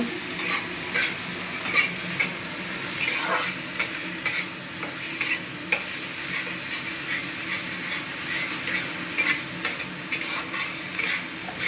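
Garlic sizzles and fries in a pan for soup, with a steady crackling hiss broken by repeated scraping stirs close up; no one talks.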